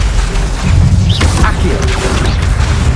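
A fire spell cast in the video game Hogwarts Legacy, a loud booming whoosh with crackling bursts over a dense, constant game soundscape, with a brief rising magical sweep partway through.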